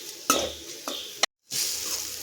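A spoon scrapes and stirs tomatoes with cumin and pepper in a pan over soft sizzling, with short metallic strokes, a brief dropout, then steady frying hiss.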